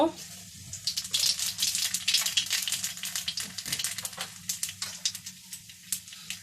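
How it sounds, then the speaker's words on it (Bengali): Nigella seeds sizzle and crackle in hot oil in a wok, a dense, close, spitting hiss that starts strong and slowly thins over a low steady hum. "এবার আমি গরম তেলের মধ্যে কালো জিরে দিয়ে দেব"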